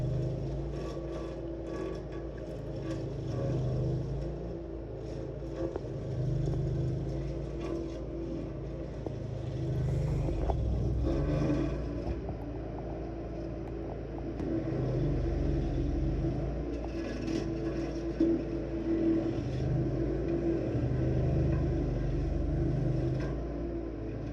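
A 27 horsepower tree stump grinder chews into a stump, its engine a loud continuous rumble with a grinding, rattling layer that swells and eases as the cutter bites.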